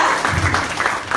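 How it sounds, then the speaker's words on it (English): Audience applause at an Aim Global product presentation: a short, steady wash of clapping from a crowd, fairly loud and even throughout with no clear talk over it. "Applause for that."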